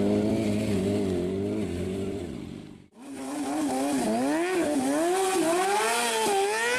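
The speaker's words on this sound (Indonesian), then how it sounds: "Di sini ada motor balap." A toy racing motorcycle's engine sound revs and whines in rising and falling sweeps, loud and close, with a brief dropout partway through before the wavering revving resumes.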